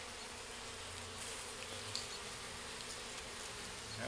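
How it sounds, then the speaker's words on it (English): A dense, steady buzz of many honeybees in a hive box after a colony cut-out, constant and fairly faint, with no voices. "There are some young bees in here I see."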